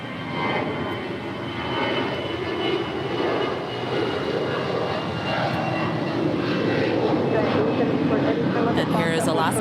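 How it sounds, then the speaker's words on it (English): Airliner jet engines rumble and roar steadily at Los Angeles International Airport, a broad continuous drone of aircraft on the ground with voices talking faintly underneath throughout. "We're pushing back this Asiana A350, though they will tow her to the far west side of LAX."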